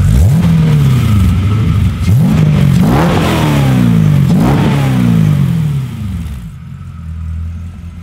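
An LS3 V8 swapped into a Porsche Cayman revs repeatedly up close, rising and falling in several quick swells, then settles to a lower idle.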